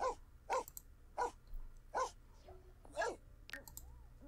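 A dog in The Sims 4 barks in a regular series of short, even woofs spaced about half a second to a second apart, followed by a softer whine, with a low hum underneath.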